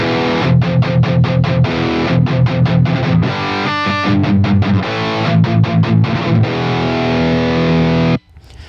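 A distorted electric guitar chugs rapid palm-muted notes in rhythmic bursts with a few sustained chords, amp master volume at 1 on channel A, loud and alone before cutting off abruptly.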